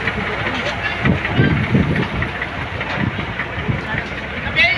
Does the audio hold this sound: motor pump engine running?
yes